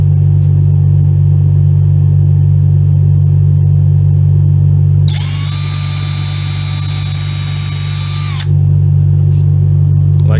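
Small drill boring an 1/8 inch hole in the top of a puppet build, a steady high whine of about three seconds over a constant loud low hum.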